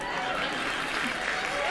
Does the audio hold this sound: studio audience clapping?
yes